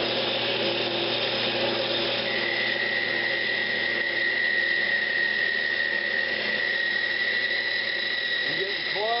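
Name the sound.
woodturning lathe, parting tool sizing wood down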